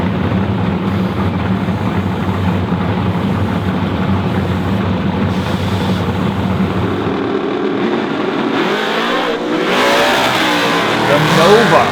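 A Chevy Nova and a Chevy Camaro drag race, the engines a loud sustained roar that shifts and climbs as they accelerate away, under an announcer's voice.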